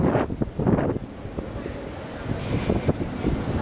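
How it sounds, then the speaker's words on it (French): Strong outdoor wind buffets the microphone on a street walk, a steady low rumbling roar with gusting swells that runs throughout the clip, under a faint trace of voices. "là il y a du vent, je sens vraiment le vent en face là qui est assez fort"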